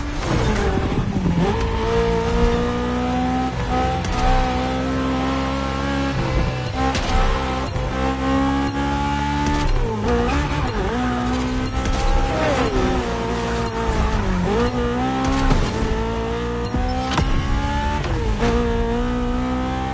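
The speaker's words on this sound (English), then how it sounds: "Drifting is the best way to take sharp turns without losing speed." A car in the racing game The Crew Motorfest drifting through sharp mountain turns, its engine revving and wavering in pitch as the tires squeal, loud and sustained with no talk.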